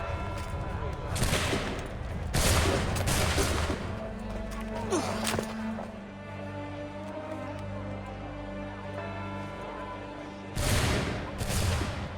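Musket volley from a line of soldiers in the Assassin's Creed 3 video game: a few loud, sharp gunshot bursts near the start and another pair near the end, over steady game music, with a voice shouting a command.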